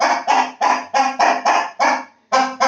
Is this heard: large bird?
yes